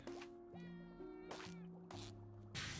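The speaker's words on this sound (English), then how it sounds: "I'm pretty sure we can hear Gary in there meowing" Gary the snail meows in the Powerwash Simulator video game, several short tonal meow-like calls in a row, fairly faint and mixed with bright splashy bursts of game sound.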